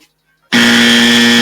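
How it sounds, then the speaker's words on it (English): A loud, harsh electronic buzzer blares abruptly after a half-second of silence and holds steadily to the end. "we changed the dummy bell to a dummy buzzer"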